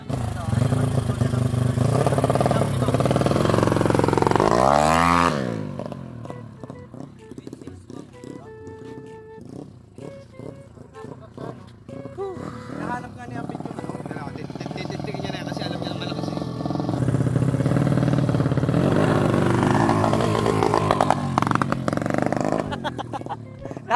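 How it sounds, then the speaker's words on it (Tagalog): A drag-race motorcycle with an engine fault that leaves it lacking acceleration, revving during last-day preparation: a rising engine sweep, then uneven idling and further revs over roughly twenty seconds, close by, with people talking in the background. "Nagkaka-problema na yung motor."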